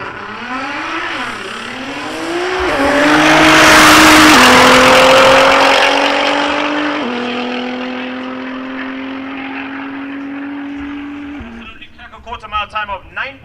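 A drag racing car launches and makes a quarter-mile run at a national drag racing event. The loud engine rises through several gear changes, swells and then fades into the distance, with a voice over a loudspeaker near the end.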